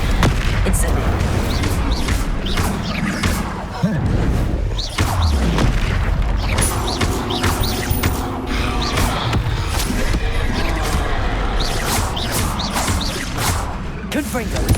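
Fiery Confringo spell blasts from Hogwarts Legacy go off in repeated booming bursts, loud and near, over a constant bed of battle noise with voices speaking throughout.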